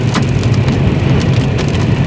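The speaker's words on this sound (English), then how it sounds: "We're getting hailed on here." Hail pelting a storm chaser's car near Arnett, Oklahoma during a tornadic storm, a dense steady clatter of stones on metal and glass with a deep rumbling drive underneath, loud and continuous throughout.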